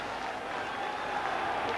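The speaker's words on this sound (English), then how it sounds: "Well, that's really got them cheering." Crowd at a 1988 France v Great Britain rugby league match, a broad steady roar of cheering and applause that holds without a break.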